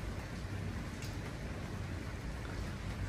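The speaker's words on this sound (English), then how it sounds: "Raining." A steady, gentle hiss of rain comes down outside a garden-view hotel balcony in Paris, constant and fairly quiet with no talking.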